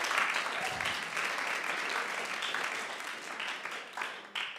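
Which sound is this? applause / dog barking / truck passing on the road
applause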